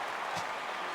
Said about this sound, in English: now I am watching people clapping